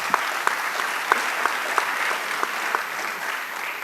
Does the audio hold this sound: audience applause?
yes